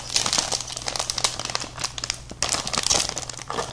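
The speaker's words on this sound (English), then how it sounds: "I'm just gonna open this gently because I don't want to tear too much off" Plastic and paper packaging of a Happy Kitchen cheeseburger kit crinkles and tears up close, in a busy run of rustling bursts with brief pauses.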